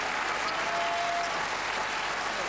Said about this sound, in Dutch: En Carina, wij geven jou een geweldig applaus.